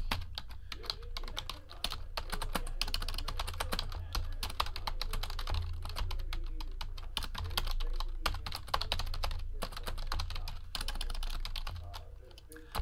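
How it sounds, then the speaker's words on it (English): Rapid typing on a computer keyboard during a Leaf Memorabilia Treasury basketball card box opening, a steady patter of close keystrokes lasting several seconds with some background noise. "type in the hits here."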